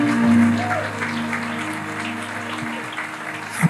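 An audience at a church sermon bursts into applause, a dense, even wash of many hands clapping at moderate volume over a low steady hum, easing slightly as it goes on.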